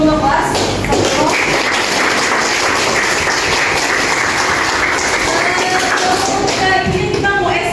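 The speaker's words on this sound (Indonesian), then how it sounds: "kita kasih aplaus dulu untuk kelas" Classroom of students applauding together, a loud steady wash of clapping with scattered taps and shuffling that continues throughout.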